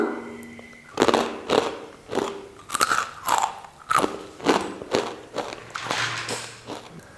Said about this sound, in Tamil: நல்லா மொறுமொறுன்னு சூப்பராக வந்திருக்கு வெண்ணெய் முறுக்கு